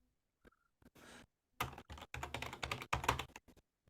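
Quick keystrokes on a computer keyboard, a few isolated clicks at first, then a dense run of rapid, close typing with short pauses, no voices.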